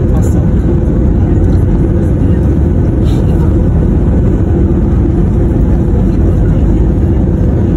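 An airplane cabin during landing fills with a loud, steady engine roar and broadband rumble that holds throughout, with no clear voices over it.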